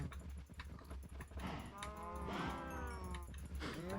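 Minecraft cows moo repeatedly at close range, drawn-out lowing calls overlapping each other after a few quick tapping sounds at the start.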